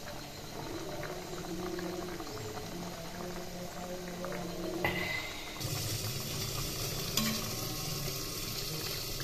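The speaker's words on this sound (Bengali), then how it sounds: "লো ফ্লেমে ঢাকা দিয়ে 2 মিনিট রান্না করে নেব।" A curry of hilsa fish head and taro greens simmers under a lid on a low flame, giving a soft, continuous bubbling hiss with faint gurgles and an occasional light clink.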